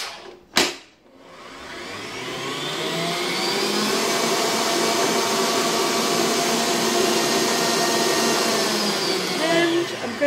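An electric mixer beats cream cheese for a drumstick dessert: a sharp knock, then the motor whirs up into a steady, loud, high hum that holds for several seconds, with no talking.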